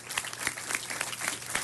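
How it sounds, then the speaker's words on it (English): Steady applause from an audience at a city council meeting, dense clapping that fills the room continuously with a few sharper claps standing out. "Give that a big round of applause."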